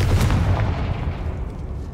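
A Confringo fire spell explodes in the video game Hogwarts Legacy: a loud, booming blast with a heavy low rumble that slowly fades over about two seconds.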